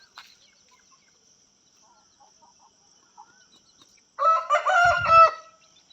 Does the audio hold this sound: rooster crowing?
yes